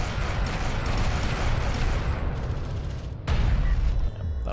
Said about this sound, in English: A turret is under fire.